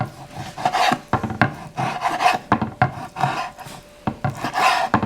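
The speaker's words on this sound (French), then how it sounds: "Je suis désolée si ça fait du bruit avec la planche." Knife slicing beef for a daube on a wooden chopping board, giving repeated close rasping, scraping cuts and sharp knocks against the board in an uneven rhythm.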